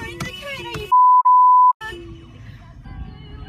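A loud, steady censor bleep cuts in mid-speech in two quick pulses, with talking on either side.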